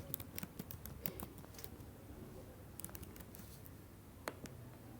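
A password is typed on a computer keyboard: quiet, irregular key clicks in short bursts with brief pauses, close but faint, with no talking.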